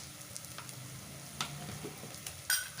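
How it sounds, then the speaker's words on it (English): Pureed tomato goes into a sizzling pan of frying food, giving a soft, quiet sizzle with light stirring clicks and a couple of small scraping taps. "so now I'll put in my pureed tomato"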